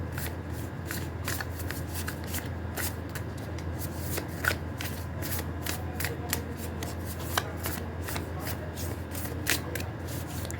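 Astro oracle cards are shuffled close up, with a quick, repeated riffling and soft slaps of card on card in an uneven rhythm.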